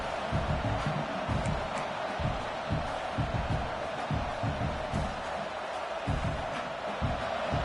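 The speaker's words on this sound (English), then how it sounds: "It's early, but this crowd is fired up. Listen to this noise here." A packed football stadium crowd at an LSU versus Georgia game roars continuously with rumbling shouts and cheers, a dense, fairly distant wall of noise throughout.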